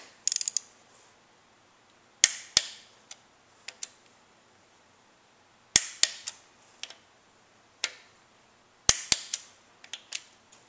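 Sharp metallic clicks from a torque wrench tightening engine head bolts to 12 newton meters on a 1995 Suzuki Sidekick, loud isolated snaps in small clusters separated by quiet pauses.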